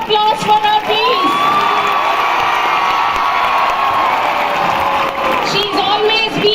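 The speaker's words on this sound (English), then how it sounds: "Can we have a huge round of applause for her, please?" Loud crowd of children cheering, shouting and whooping with some applause at a school annual finale event, sustained and energetic throughout.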